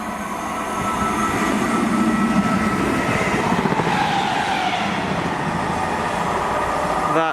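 A Class 319 electric train, unit 319383, rumbles past close by on a Manchester Airport to Liverpool Lime Street service, a steady loud roar of wheels and rail with a faint squeal toward the end.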